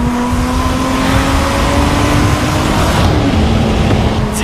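A car with a Toyota 2GR engine pulls hard under acceleration, a loud, steady engine drone close to the microphone with a rising tone and no talking.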